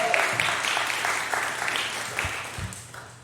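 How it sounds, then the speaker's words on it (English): Applause from a congregation at a Sunday church service, a steady patter of clapping at moderate volume filling the whole moment, with no voices over it. "The applause has indicated how grateful we are to Team Forcucci"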